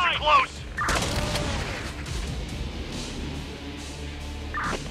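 Gunfire in the zombie survival strategy game Infection Free Zone comes as a burst of booming shots followed by a rumbling din of distant fire, with someone talking over it and brief radio-style voice chirps.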